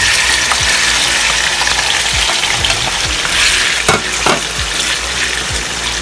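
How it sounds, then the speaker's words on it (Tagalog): Pork belly frying golden brown in a pan, a loud, dense, close sizzle that runs throughout with a few sharper crackles and pops along the way. "Iprito ko na. Golden brown."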